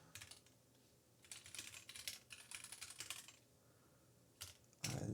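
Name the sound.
typing on a computer keyboard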